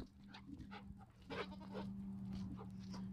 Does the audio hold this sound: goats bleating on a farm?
yes